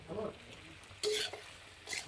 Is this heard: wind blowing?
no